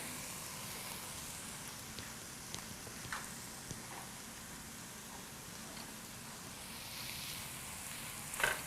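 Onions, garlic and beet greens frying in a pan: a faint, steady sizzle with occasional soft clicks and utensil taps, ending in a brief louder clatter.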